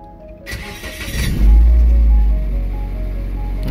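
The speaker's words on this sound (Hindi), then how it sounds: "ये अपना गाड़ी स्टार्ट करते हैं।" A car engine starts in Sharjah: a click and brief crank build into a loud, close low rumble that settles to a steady idle, alone without talk.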